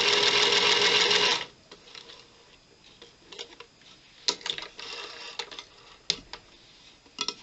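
A sewing machine chain piecing quilt block pieces runs in a loud, steady burst for about a second and a half, then gives way to scattered light clicks and ticks as the fabric is handled.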